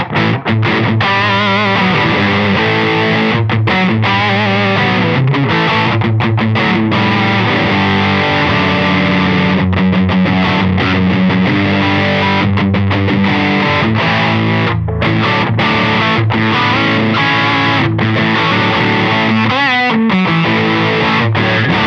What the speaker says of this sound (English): let's try some distortion with the 1981 Inventions DRV.